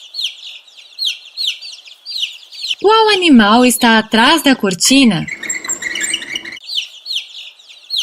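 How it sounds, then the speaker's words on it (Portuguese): A chicken clucking repeatedly in short rhythmic bursts, interrupted by a person speaking in the middle before the clucking resumes. "Um frango."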